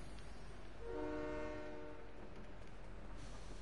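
A train in a video game sounds a sustained horn for about a second while it rolls past, with rumbling wheel noise underneath, fairly distant and moderately loud.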